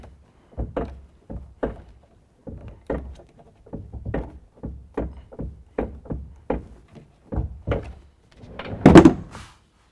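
Repeated hollow thunks and knocks as a part is pushed down into a DECKED truck bed storage drawer on a 2016 Toyota Tacoma, about a dozen evenly spaced close impacts, ending in a louder, rougher clatter.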